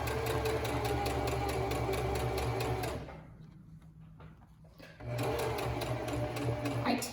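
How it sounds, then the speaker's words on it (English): A sewing machine stitches fabric along a lower curve close to the edge, running in a fast steady whir, pausing briefly for about two seconds, then resuming at full speed. "just going to stitch along this lower curve pretty close to the edge."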